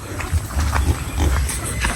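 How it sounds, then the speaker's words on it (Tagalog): Three pigs grunt and snuffle in a pen on a small farm, low close-up oinks coming in bunches over a busy outdoor background. "eto kulungan ng baboy. Oh. Meron tayo ditong tatlong baboy."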